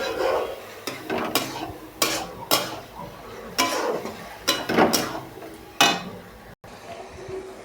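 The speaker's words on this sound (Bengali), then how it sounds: "দেখুন ভালো করে নাড়াবো মাছটাকে, ভাজা ভাজা যাতে হয়ে যায়।" Fish frying in a pan is turned with a metal utensil, making repeated clanks and scrapes against the pan over a low sizzle.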